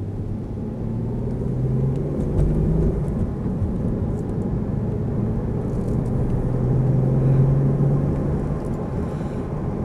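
A Mitsubishi 3000GT twin turbo drives on a straight test track, giving a steady, fairly loud low engine rumble and road drone throughout, with a faint rising tone near the end and no talking.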